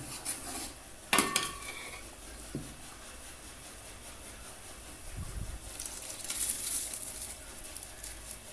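Rice poured into a pot of boiling chicken for pulao gives a soft rattle and patter near the start, then low stirring and bubbling rasps, quiet and close, with no talk.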